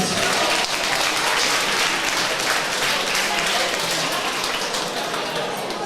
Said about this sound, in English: Ladies and gentlemen, give your applause to his opponent